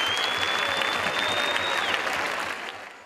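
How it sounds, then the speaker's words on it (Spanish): A crowd at a town festival gives sustained, dense applause at close range. The clapping holds steady for about three seconds, then begins to fade, with a faint whistle-like tone running through it. "Un aplauso, gracias."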